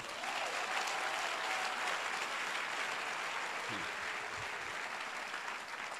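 A church congregation at a French-language service applauds together, a dense, steady wash of clapping from many hands that fills the whole stretch at full strength.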